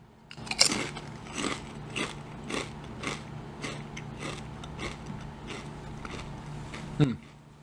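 Rosemary and feta flavored potato chips are being chewed close up, with a quick run of sharp, regular crunches, one louder bite near the start and another near the end, with faint speech-like sounds.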